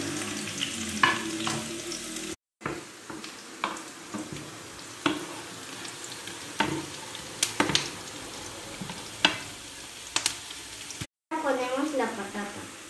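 Garlic and onion frying in a pan, a steady close sizzle with occasional stirring scrapes and clinks, briefly interrupted by two short gaps.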